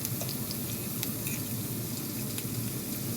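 Onion rings frying slowly in olive oil, a steady close crackling sizzle with scattered pops and bubbling, continuous and even throughout with no talk.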